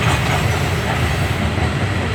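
A Norfolk Southern empty coal train rolls past close by on its southbound run, a loud, continuous rumble of wagons with rattling wheel noise and no voices.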